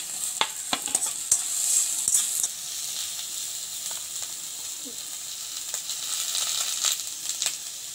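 Diced capsicum frying in a little oil in a kadai alongside chopped onion, a steady close sizzle broken by sharp clicks and scrapes of stirring, loudest in the first few seconds and continuing without voices.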